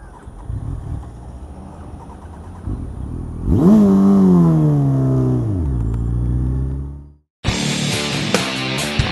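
A motorcycle idles, then pulls away and accelerates, its engine note rising and falling through a gear, loud and near, before it cuts briefly and other sounds follow.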